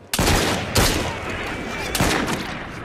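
Gunfire in Assassin's Creed Syndicate, three sharp loud shots spaced about a second apart, each with a short ringing tail, with faint background speech.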